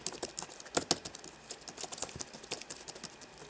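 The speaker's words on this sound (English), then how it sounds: "Angry typing." Fast, forceful typing on a Razer DeathStalker keyboard, close and crisp, with irregular bursts of sharp key clacks and mashed keystrokes and no voices.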